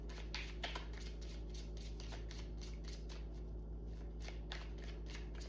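Tarot cards are shuffled quietly in a series of soft, riffling slaps and brushes, close and faint over a steady low hum.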